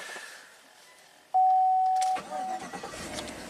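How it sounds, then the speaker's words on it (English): A 2008 Chevy Suburban that sat for four months cranks briefly with a sharp tone, then catches and settles into a smooth idle, close by. "Is the big Chevy gonna fire right up?"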